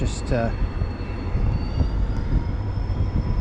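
A diesel locomotive idles and revs with a low, steady engine drone at an Irish railway platform, one of a double-header pair, heard continuously after a brief high squeal at the start.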